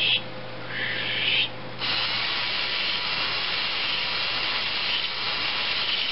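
A drill spins a valve against its seat in a Briggs & Stratton OHV engine, lapping with grinding compound: a steady, close, gritty whirring rub that runs continuously, with a brief change in tone near the start.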